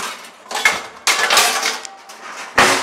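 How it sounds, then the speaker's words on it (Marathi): A metal pan is set down on the stove in a few clanking, rattling knocks, close and loud, with scraping between the hits. "आधी पॅन टाकून घेतो"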